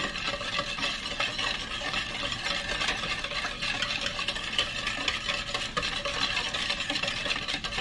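A mixture for cinnamon rolls is whisked in a bowl, giving a continuous, fast, rhythmic clatter and swish that stays steady and fairly soft throughout, with no talk.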